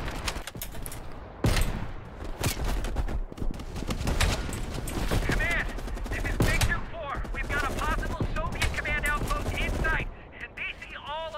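Sniper rifle fire from a ridge during the Call of Duty: Black Ops Cold War campaign, sharp repeated shots mixed with heavier automatic gunfire, with characters talking throughout.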